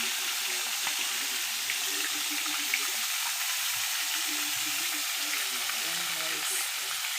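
Fish fries in a hot pan of oil with a constant, dense sizzle and crackle, close and steady throughout, while a voice speaks briefly over it.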